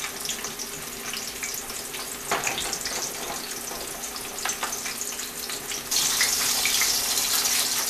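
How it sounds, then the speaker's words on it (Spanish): Green chiles hit hot oil with browned onion and garlic, giving a continuous close crackling sizzle that swells louder near the end as more chiles go in; no talking. "Voy a empezar a poner todos los chiles, ya se doró la cebolla y el ajo, y ahora voy a poner todos los chiles."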